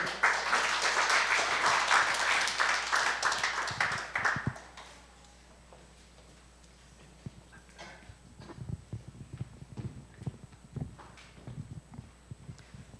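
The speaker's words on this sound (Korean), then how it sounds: "박수로 환영하겠습니다" Applause from a church gathering of ministry workers at a regional evangelism camp, dense and loud for about four seconds before fading into scattered light claps and shuffling.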